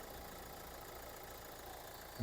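Steady low rumble of a warmed-up 2015 Hyundai Grand Santa Fe engine idling, even and unchanging throughout, with a brief louder bump at the very end.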